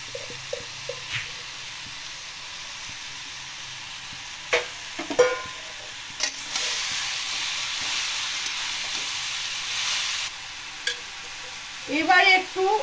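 Grated coconut and jaggery cooking in a pan, with a little water added, are stirred in scattered scraping strokes over a soft sizzle and steam hiss. A louder stretch of bubbling sits in the middle, with clattering near the end.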